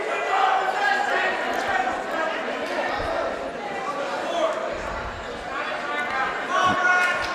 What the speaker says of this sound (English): The crowd's screaming about something.